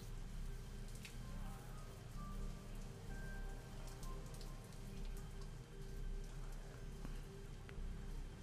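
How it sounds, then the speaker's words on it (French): Steady rain falls in the zombie survival game Zafehouse Diaries, a dense, even patter of drops on surfaces that holds at constant loudness throughout, with no voices. "Donc il pleut."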